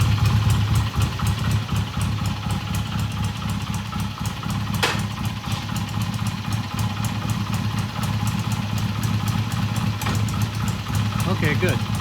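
A BSA A65 motorcycle engine idles in gear with a steady, close, throbbing rumble throughout, while people talk over it.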